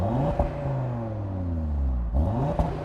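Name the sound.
Audi TT RS 2020 revving with standard normal exhaust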